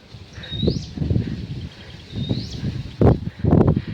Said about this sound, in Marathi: हा पक्षी कोणता आहे मला कमेंटमध्ये नक्की सांगा